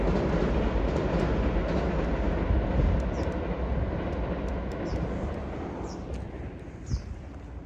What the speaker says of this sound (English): Oh, and here's the Matsumoto train, I think.